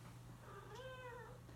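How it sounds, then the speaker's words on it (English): A single faint cat meow rises and falls briefly over a steady low hum in a quiet room, with no talking. "It was the cat."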